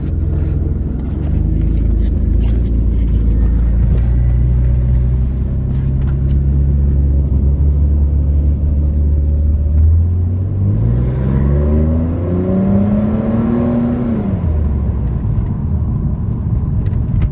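A lowered car pulls away and drives off on a ride, its engine a steady close rumble that rises and falls as it revs and shifts, pitch sweeping upward then dropping near the end.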